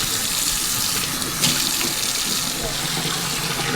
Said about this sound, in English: Now we're in the rinse cycle.